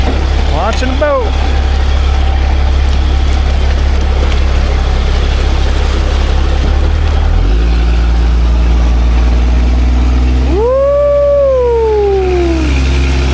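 Boat engine idling loud and close as the drift boat is launched for Alaskan silver salmon fishing, with a rising, falling whine near the end.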